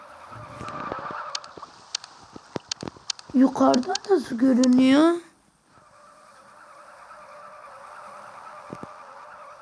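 A car in a realistic driving video game accelerates and skids, with a loud burst of revving engine and sliding tyres mid-clip, quieter engine noise around it, and a person talking over it.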